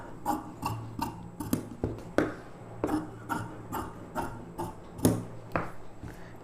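Scissors cut through blouse lining fabric along the front neckline, making a series of crisp, rasping snips in an irregular rhythm, close and fairly quiet.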